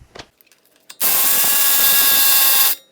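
An impact wrench hammers on the CV axle nut of a 2003-2007 Honda Pilot, a loud, continuous buzzing rattle lasting nearly two seconds after a few faint clicks, close and alone.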